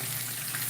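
Oyster mushrooms fry in a pan as wing substitutes, giving a steady, close, broadband sizzle and crackle with no voice.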